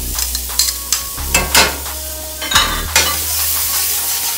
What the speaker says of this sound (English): Just gonna sweat my onions and the garlic